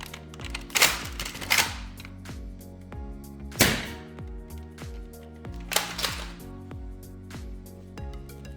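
A Dart Zone Nexus Pro blaster firing Short Dart Mega darts, a few loud mechanical thunks spaced out with clicks and rattles of priming between shots, close by and with no talk.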